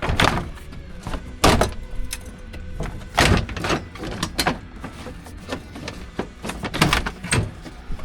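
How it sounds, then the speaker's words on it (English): An interior panel sliding off a Polaris RZR Pro side-by-side, a string of close plastic knocks, scrapes and thumps in irregular bursts, with no voices. "And then you can slide this whole panel outwards."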